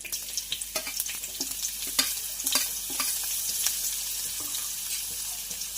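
White spring onion fries in oil for a bottle gourd soup, with a bright, continuous crackling sizzle and frequent quick stirring scrapes, close and steady throughout with no talking.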